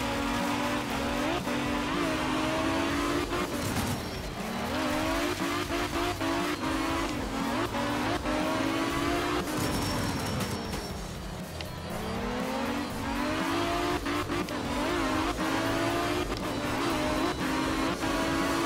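A rally car in the video game Art of Rally at a dry Sardinia stage, engine droning loudly and continuously with rising and falling revs as it accelerates, shifts and slides, and tires scrub on the surface.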